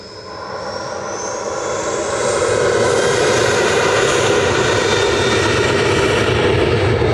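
A jet airliner at Manchester Airport roars at full takeoff power, a loud, steady broadband rumble that swells over the first few seconds and then holds constant and close, with no talking over it.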